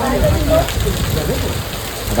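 Heavy rain pours in a steady, dense roar throughout, with faint voices now and then beneath it.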